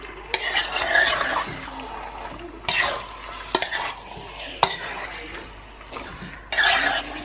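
Stewed beef with Scotch bonnet pepper is gently folded over in a pan, giving soft scraping stirs and light utensil clinks over a low, steady sizzle, with a few separate passes of stirring.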